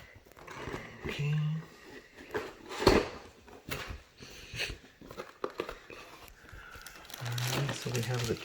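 A Microsoft Wireless Desktop 900 keyboard set is unboxed, with bursts of close plastic and paper packaging crinkling, tearing and rustling, intermittent and uneven, while a person talks softly in between.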